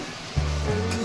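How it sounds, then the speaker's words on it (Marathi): Water pours into a pan of pumpkin curry, a sudden steady gush that starts partway through and keeps rushing close by, with no talking. "आता टाकायला लागले पाणी."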